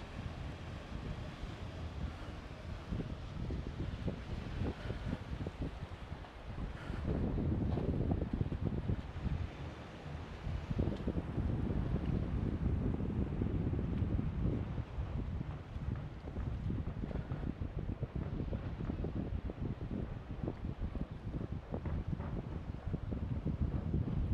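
Constant seaside wind at Les Sables-d'Olonne, France, roars against the microphone, with surf rumbling underneath and gusts swelling louder midway through.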